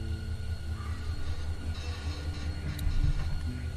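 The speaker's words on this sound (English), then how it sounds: "Yeah, that's the train." A train moving in The Walking Dead video game gives a steady, loud low rumble of rolling carriages with faint metallic rattles. It continues unbroken with no voices.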